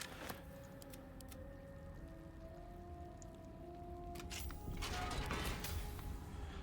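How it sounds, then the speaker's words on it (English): A door in a fantasy role-playing game is unlocked with a key and swings open, giving mechanical clicks and a long creaking groan that builds louder toward the end over a quiet background, with no speech. "So we use the Slunite key to open the door here."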